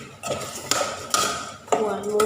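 Pork being stir-fried in a pan, with a few metallic scrapes and clinks of a utensil against the pan at irregular intervals over a low background, close by.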